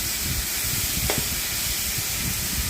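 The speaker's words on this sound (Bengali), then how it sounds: "এবার আমি গাজরটা ঢেলে দিচ্ছি এর মধ্যে। দিয়ে আমি এটাকে 5 মিনিট মতো ভালো করে ভাজবো।" Grated carrot sizzles loudly in a pan while being fried for a carrot payesh, an even, close frying hiss with a brief scraping stir midway.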